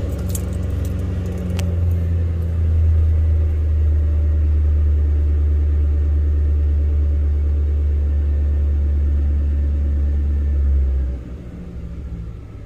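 A 4.6 liter car engine cranks and catches after a brief rattle of keys, then settles into a steady, deep, close idle rumble that runs for several seconds before the level drops off.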